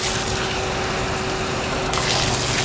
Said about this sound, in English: You want to catch that water as it comes out.